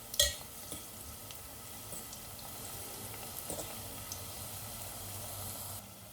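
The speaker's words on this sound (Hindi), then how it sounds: "तेल गर्म हो चुका है, अब इसमें टिक्कियों को फ्राई कर लेंगे।" Besan tikkis fry in hot oil in a pressure cooker on a low flame, giving a faint, soft sizzle with occasional light scrapes and clinks as they are turned, and a brief louder knock at the start.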